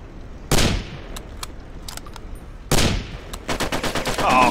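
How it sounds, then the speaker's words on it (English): Rifle gunfire in a video game: two loud sharp shots with echoing tails, a few scattered single cracks, then a rapid burst of shots at the end, close and punchy. "I shot him right in the fucking chest"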